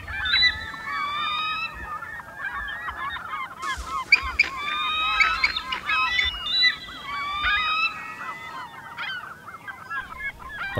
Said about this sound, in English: All an eagle has to do is scream and holler to move a claim jumper off of its fist.